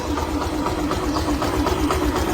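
A 2022 Yamaha Saluto SD CBS 125cc motorcycle engine idling close by, an even, continuous mechanical purr with a slight rattle, no voices.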